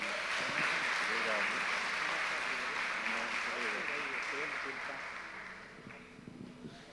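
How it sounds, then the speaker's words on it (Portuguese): A church congregation applauds during a morning worship service, a broad roar of clapping with voices mixed in, loud at first and then fading toward the end. "Aplauda Jesus."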